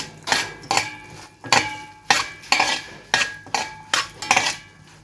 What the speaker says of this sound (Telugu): ఆ పాప్కార్న్ దీంట్లో వేసి తిప్పేసి ఒక 5 నిమిషాలు ఇట్లా ఉంచేసి మూత పెట్టేద్దాం